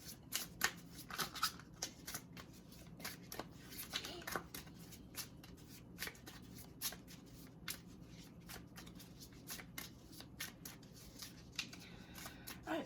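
Mystical Shaman oracle cards are shuffled by hand in repeated soft riffling snaps and rubs, quiet and close, continuing steadily throughout.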